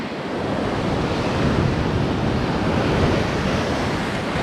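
Big ocean waves rolling onto a beach on Nusa Penida, a continuous loud wash of surf mixed with wind buffeting the microphone, with no voices.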